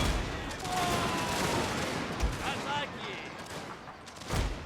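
Mortar and cannon fire on a castle in a strategy video game, a continuous rumbling fusillade with several louder booming shots breaking through, over a voice talking.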